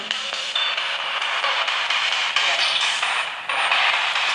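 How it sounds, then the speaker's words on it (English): Spirit box radio sweep during a paranormal investigation, a continuous hiss of static with rapid choppy jumps as stations flicker past, loud and steady throughout. "We're going to give a spirit box session a go and see if we can make contact with any spirits that may be lingering here."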